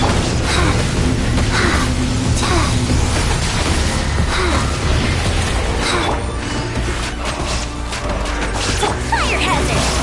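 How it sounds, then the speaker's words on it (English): Dense, continuous fireworks bursts and booms fill a Genshin Impact parade scene, a loud wall of crackling explosions and impacts with no pause, mixed with game effects. "Here come the fireworks!"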